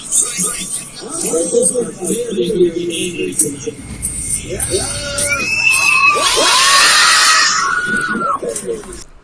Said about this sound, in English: the camera is dropped as the audience starts screaming